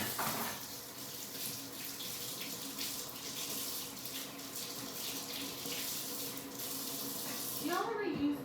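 Tap water running steadily into a sink while glasses are washed, a continuous close splashing rush with small clinks and shifts as hands move under the stream.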